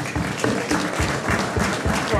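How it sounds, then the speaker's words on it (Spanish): Applause from an auction audience fills the room as a steady, dense wash of clapping with some voices mixed in, continuous from start to finish. "Un aplauso,"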